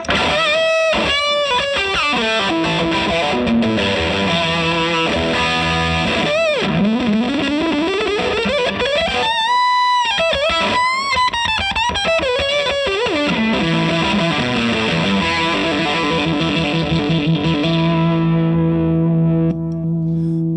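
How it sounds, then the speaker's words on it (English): An electric guitar plays through a Nutube preamp with its gain-boost switch on, giving loud, heavily distorted, sustained lead lines with bends and fast runs for about twenty seconds, with no talking. "this preamp has one more switch, which is watts. So it's increase more gain and sustain."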